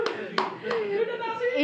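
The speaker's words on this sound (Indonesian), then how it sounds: "Tepuk tangan dong." A few sharp hand claps, about three spaced across under a second and a half, ring out close by amid ongoing conversation between several people.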